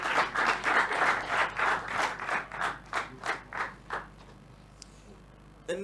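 Audience applause at an oratory competition, a series of rhythmic clapping bursts that fade and thin out toward the end, with a brief sound near the close.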